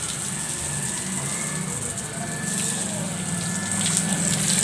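Water gushes steadily from a hose or tap while potted plants are watered at home, a loud, continuous close-up rush that grows slightly stronger toward the end.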